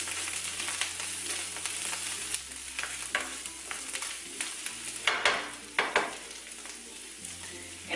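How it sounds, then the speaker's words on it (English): Butter melts in a frying pan before eggs are cracked in, a steady crackling sizzle with scattered louder pops and stirring scrapes, close and fairly quiet, with no talking. "Add a little more butter. Let that melt on up."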